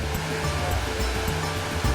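Steady, dense rushing of a waterfall in Kerala, India, loud and continuous throughout with no voices.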